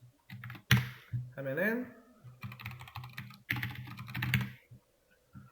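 Keys clatter in quick bursts on a computer keyboard as a Linux command is entered in a classroom, with someone talking over and between the typing.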